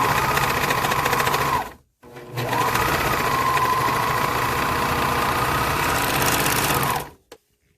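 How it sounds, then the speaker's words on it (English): A sewing machine stitches a zigzag seam on a dress, running in a steady, loud mechanical whir close by, pausing briefly around two seconds, then running again and stopping. "you can use your sewing machine to kind of sew"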